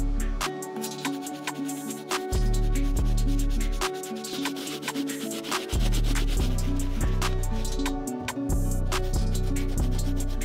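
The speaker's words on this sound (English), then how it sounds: "We're gonna move on to the medium bristle brush to take care of the plastic areas." A medium bristle brush scrubs the plastic areas of 37-year-old Nike Air Force 2 sneakers, giving a steady, close rasping scrub with repeated strokes throughout and no talking.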